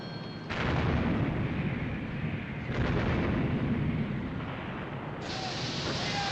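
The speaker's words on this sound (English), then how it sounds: "My God, she's firing again! With another 2 turrets!" Warship turret guns fire in a 1956 war film about the Battle of the River Plate and the pursuit of the Graf Spee. Heavy booming blasts roll into a continuous rumble, with a sudden high tone near the end.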